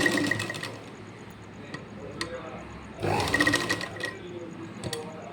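A sewing machine stitches a hook belt in rapid mechanical bursts, whirring loudly near 0–0.6 s and again after 3 s, with quieter pauses and handling noise between runs.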